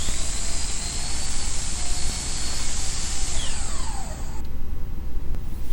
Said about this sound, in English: it was time to cross-cut the pieces to roughly the right length